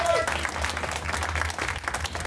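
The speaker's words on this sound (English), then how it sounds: "Can we get a big round of applause for Martin Novoa?" Applause at a press conference greets speaker Martin Novoa, a crowd of hands clapping continuously at close range, with a brief voice audible at the very start.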